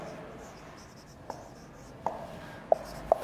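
Writing on a board during a classroom lesson gives soft, faint scratching strokes, punctuated by a few sharp taps in the second half over a quiet room hum.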